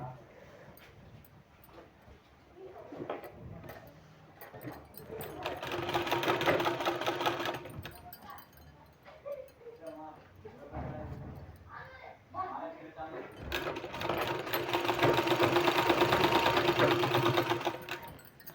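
A sewing machine stitching a sleeve design, running in several whirring bursts with pauses between, close and moderately loud, with a dog yipping and whimpering in the background and a voice speaking at times.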